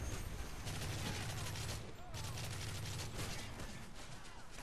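Continuous rapid gunfire from a SCAR rifle in a team deathmatch shooter on the Arkaden map, a dense sustained rattle with a brief gap midway, loud and steady throughout.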